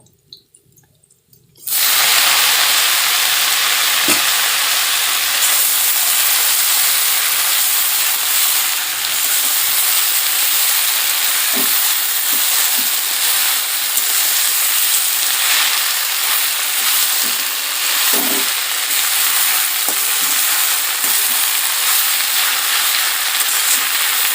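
Chopped jute leaves dropped into hot oil already tempered with garlic and green chilli, bursting into a loud, sudden sizzle that settles into a steady, close hiss with occasional pops and crackles, with no talk.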